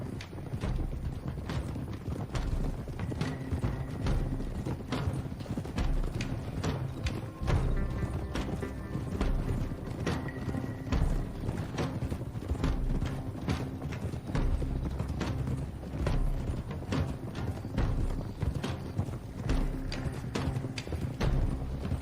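Several horses trot in the Red Dead Redemption 2 video game, their dense, continuous clip-clop hoofbeats close and steady over low ambient game sound.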